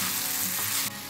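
Fried parwal and prawns sizzle in masala in a pan as they are stirred together, a close, steady crackling hiss that drops slightly in level near the end.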